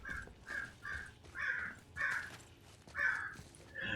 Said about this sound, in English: And I'm sure you guys can hear our crows.